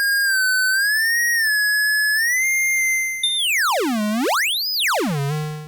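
Theremin synth patch on the TC-11 app for iPad, a pure sine-like tone gliding gently at first, then swooping in wide, rapid up-and-down pitch sweeps, clean and steady with no speech.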